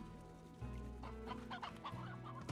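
Chickens clucking in the Slime Rancher video game, a busy flock of short overlapping clucks and squawks running nearly continuously over a low game-music bed.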